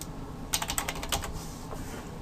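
A short burst of rapid keystrokes on a computer keyboard, about a dozen quick close clicks in a row, then quiet room tone.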